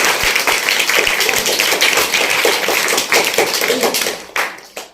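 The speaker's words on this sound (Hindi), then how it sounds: "एक बार अर्पित के लिए और जोरदार तालियां" Loud applause from a crowd of schoolchildren cheering a student at a school science model event, close and continuous, then cutting off near the end with a couple of stray claps.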